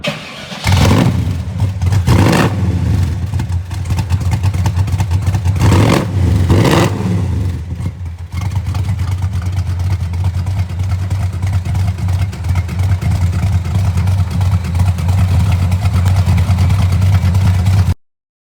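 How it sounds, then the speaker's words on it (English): A 1966 Chevrolet Chevelle SS 396 V8 engine cranks and catches with a couple of revs, then settles into a steady, deep idle rumble that runs on until it cuts off. "We're going to start it up, and we'll see how it sounds."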